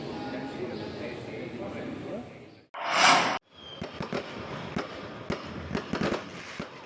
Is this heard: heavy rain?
no